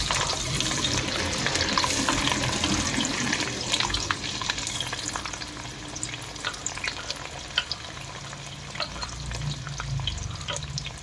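Garlic sizzles and crackles as it fries in a pan of oil for a mixed pickle, with green chillies and ginger in the pan as well. A steady, close frying hiss runs throughout with occasional stirring clatter and no talking.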